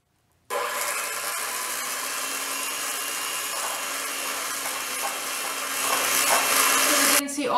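An electric mixer beats sugar into buttercream icing, starting suddenly and running as a loud, steady whir for several seconds, growing slightly heavier near the end before cutting off.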